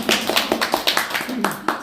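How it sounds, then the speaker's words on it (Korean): A small audience at a children's art education seminar claps in short, uneven bursts, a few distinct hand claps spaced about a quarter second apart, with talking mixed in around them. "박수 한번 쳐줄까요?"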